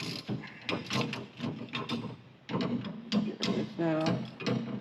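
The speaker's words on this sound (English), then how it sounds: "Start the nut back on there and tighten her back up." A ratchet wrench tightens a nut on an IHC suspension drop kit, making repeated close clicking pawl strokes in short bursts with brief pauses between them.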